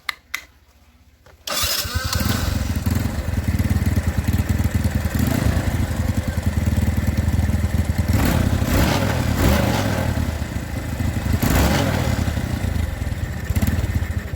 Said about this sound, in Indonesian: Di sini saya coba untuk menyalakan mesin, apakah di sini akan timbul keluar bensin atau tidak.